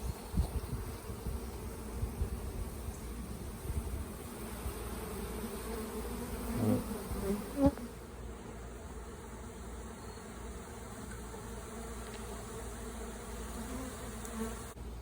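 A dense honeybee swarm buzzes continuously, a steady droning hum with some nearby bumps and knocks, without any talk.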